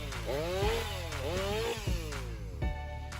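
Gas-powered Stihl MS 500i chainsaw with a fuel-injected engine cutting through large logs, its loud motor revving up and dipping repeatedly in a continuous droning whine that rises and falls under load.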